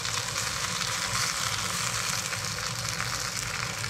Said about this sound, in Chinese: 但是鱼皮的部分，我还想再继续煎一下